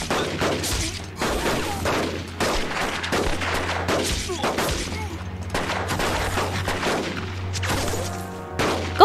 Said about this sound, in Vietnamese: Bắn.